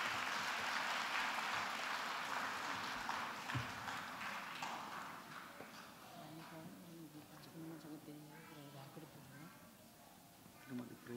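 An audience at an award ceremony claps loudly and steadily at first, then the applause thins and fades while a voice begins speaking over the dwindling clapping.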